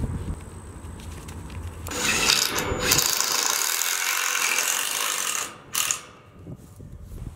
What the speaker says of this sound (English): I need to drill this.